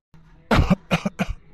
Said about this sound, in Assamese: ইমানকৈ কাহি আছা